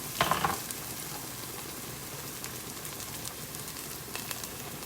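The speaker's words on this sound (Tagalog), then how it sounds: "I'm adding the garlic." Garlic and ginger frying in a pan make a constant low sizzle with a brief louder crackle at the start and faint stirring clicks later, no voices.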